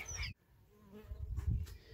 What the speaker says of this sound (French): Nous avons un nid d'abeilles, notre mur se transforme en ruche, c'est merveilleux.